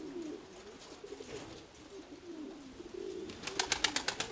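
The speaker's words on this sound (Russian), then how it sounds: "Да, вот это голубь." Pigeons coo in soft, low repeated phrases outdoors on a hot, windy day, fairly faint at a distance, with a burst of sharper rustling or flapping noise near the end.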